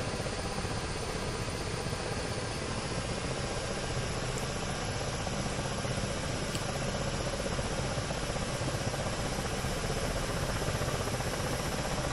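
Ka-50 Black Shark combat helicopter taking off in the DCS flight simulator, a steady, loud broadband rotor and turbine roar that stays constant throughout with no talk.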